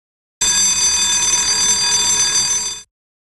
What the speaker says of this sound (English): A security alarm.